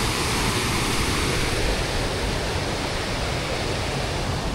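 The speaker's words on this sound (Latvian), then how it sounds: "Rumbiņas ūdenskritums." Rumbiņa waterfall pours with a loud, steady broadband rush that stays constant throughout, with no voices.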